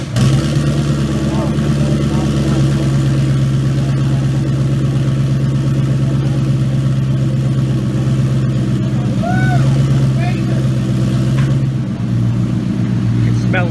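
A single-turbo, E85-fuelled 2017 Ford Mustang GT engine runs at a loud, steady idle, a deep throbbing drone filling the space throughout, with voices faintly heard underneath.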